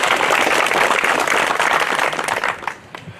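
Loud, steady applause from an audience greeting a public works official at a local community event, sustained clapping that thins out and fades near the end.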